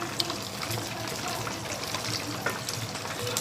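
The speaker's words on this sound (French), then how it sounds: "Il faut bien mélanger pour que ça soit bien liquide." Wet, steady swishing and gentle liquid churning as a cornstarch and water mixture is stirred, close by and continuous with faint clicks, no talking.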